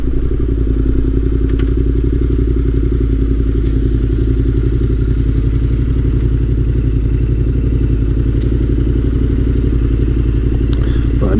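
Yamaha Tenere 700 motorcycle ridden with a passenger on the back, its engine a loud, steady, unbroken drone with rushing wind throughout and no talking.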